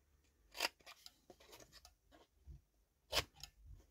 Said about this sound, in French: Bon, là, on peut couper de biais.